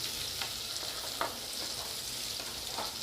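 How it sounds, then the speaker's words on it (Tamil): Square-cut capsicum sautéing with onions in a pan over a low flame gives a soft, steady sizzle with occasional faint stir scrapes, close and unbroken, with no voices. "அதையும் போட்டு இப்போ இதில் ஆட் பண்ணிக்கலாம். சிம்லே வச்சு வதக்குங்க."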